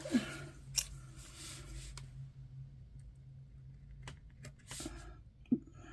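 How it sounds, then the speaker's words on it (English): Scissors snip around a paper sticker at close range, a few sharp isolated cuts separated by quiet pauses. "I'm just going to cut it out."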